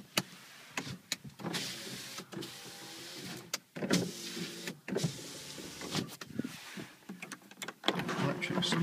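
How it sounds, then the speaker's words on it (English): Electric windows on a 2002 Honda Civic 1.6 SE five-door whir up and down in several short motor runs, each ending with a soft thud, heard close inside the car. "Electric windows all round."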